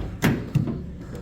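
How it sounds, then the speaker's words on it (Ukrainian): Rear doors of a 2006 Mercedes Sprinter 316 Maxi van are opened, producing two short, close clunks about a third of a second apart. No one speaks. "Відкриваємо задні дверцята."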